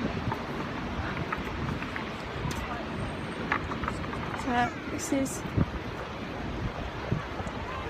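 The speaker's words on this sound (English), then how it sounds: "On a cold, windy day." Wind buffeting the microphone on a cold, windy day at Brighton sea front, a constant rushing roar with low gusty thumps, while a person speaks briefly over it.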